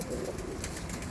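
A brief low coo from a pair of Mangalagiri and Andhra Lalsira pigeons, heard close and alone against a noisy background.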